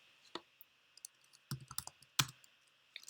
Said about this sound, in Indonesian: cukup ketikkan kata kuncinya di sini